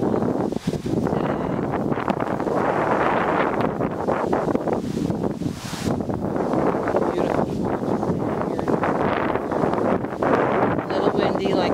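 Wind blows outdoors on a warm, sunny day, buffeting the microphone in a loud, continuous roar with gusty swells for nearly twelve seconds, while a voice briefly speaks near the start.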